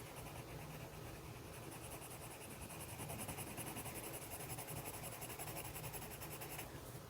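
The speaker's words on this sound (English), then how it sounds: "Now I'm going to go ahead and put in a second layer of green in the leaves" Colored pencil shading green leaves on paper, a soft continuous scratchy rasp of steady back-and-forth strokes, close and quiet, with no speech.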